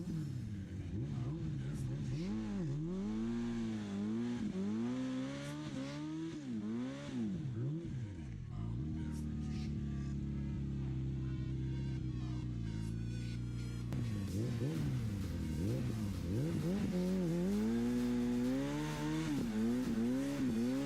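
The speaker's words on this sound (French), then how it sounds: "je vous laisse avec la vidéo des burns" A car doing tire burnouts on tarmac, with its engine revving hard in repeated rising and falling sweeps that are loud and continuous over about twenty seconds.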